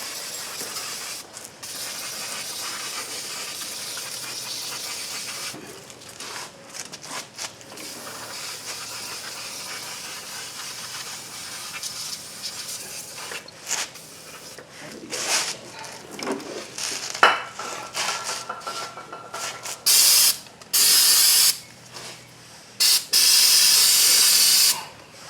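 Several bursts of brake cleaner sprayed from a nearly empty aerosol can while working on a 2011 Toyota Tacoma, loud broadband hissing in repeated blasts of a second or two, the strongest near the end.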